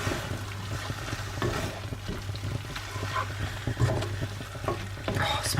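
A spoon stirs tomato sauce with balsamic vinegar in a pan, soft scraping and wet sloshing over a gentle sizzle, fairly quiet and close.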